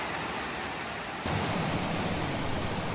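A waterfall on a forest trail at Ricketts Glen State Park gives a steady, loud, broad rush of falling water that swells stronger about a second in.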